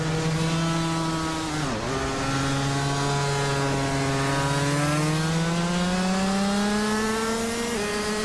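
Race car engines scream at high revs throughout, a steady loud whine with a brief dip and shift as one car passes close, joined by other engines droning in a continuous racing roar.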